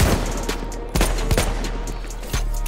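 Several sharp, loud shots from a Mars automatic pistol in Battlefield 1, spaced irregularly over a few seconds against a dense background of game noise.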